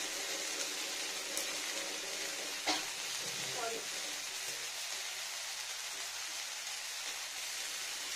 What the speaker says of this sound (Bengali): কষি দিই ভালো করে, একটু ডাউন করি টেম্পারেচারটা